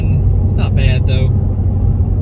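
Cadillac ATS-V cruising on a highway at 75 mph in eighth gear around 1900 RPM, a loud constant low engine and road rumble throughout, with someone talking over it.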